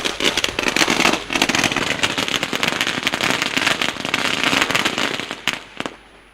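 Firecrackers and fireworks bursting in a dense, continuous crackling barrage at a cricket match, loud and close for several seconds before tapering off at the end.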